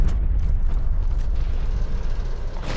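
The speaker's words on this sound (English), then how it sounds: "Artillery inbound." Artillery strike explosions in the video game Black Ops Cold War during a hardpoint match, a dense continuous roar of blasts and rumble, loud and close, with no talking.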